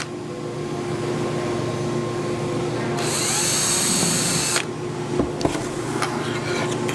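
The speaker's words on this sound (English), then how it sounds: "apply a little bit of pressure, and drill a hole" A power drill whines steadily as it bores a pilot hole for a hinge screw, the motor pitch shifting briefly under load before a few clicks and taps at the end.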